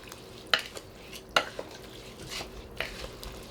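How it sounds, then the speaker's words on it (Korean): A spoon stirs a rice mixture with water inside a pressure rice cooker pot for sweet yakshik rice, producing two sharp metallic clinks followed by softer scraping and swishing at close range. "물을 부은 다음에도 잘 저어주세요."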